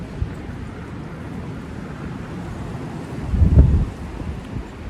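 Brisk outdoor wind buffets the microphone in a steady low rumble, swelling into a stronger gust near the end, with no one talking.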